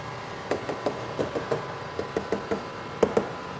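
Knuckles rap the metal roof of a 1995 Toyota Kijang Grand Extra SGX, a quick series of about a dozen light, hollow taps in uneven rhythm, close and fairly quiet.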